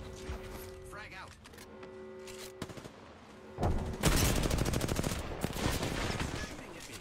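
Gunfire in the video game Apex Legends, with a quieter stretch of scattered shots and mechanical clicks followed by a loud, sustained burst of rapid automatic fire, with someone talking over it at times.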